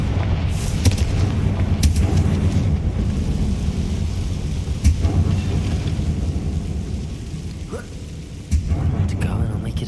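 A Confringo fire spell bursts in Hogwarts Legacy, with heavy booming blasts and crackling rumble sustained throughout amid dense game effects, several sharp impacts punctuating the roar.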